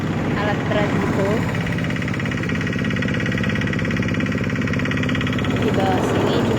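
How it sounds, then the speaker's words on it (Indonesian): Heavy machinery churns a construction mixture in a steady, loud mechanical rumble with a rapid pulsing knock, continuous throughout, with a voice talking faintly over it. "Para mandor yang sedang menggiling sedang mengaduk campuran ya pakai mesin alat berat itu."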